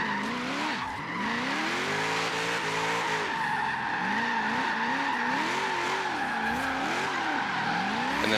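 Drift car in a demo run on a parking-lot course accelerating hard and sliding, with continuous loud tire squeal whose pitch wavers and swoops over a steady engine roar.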